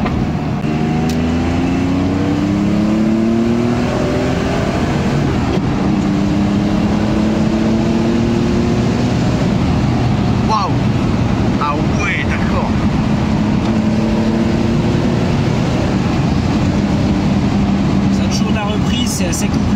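Rear-engined Porsche 930 SC accelerating on the road, its engine note climbing and falling in waves under continuous cabin chatter and exclamations from people aboard, with steady road rumble throughout.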